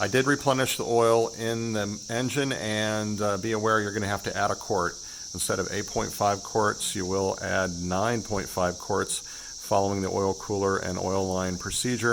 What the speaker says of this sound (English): Apologies for the background cicada noise.